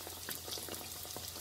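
Baursaki, Kazakh dough balls, sizzle and bubble in hot, clear frying oil, a close, steady crackling boil with no talking.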